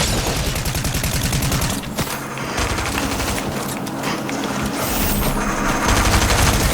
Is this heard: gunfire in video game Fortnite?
yes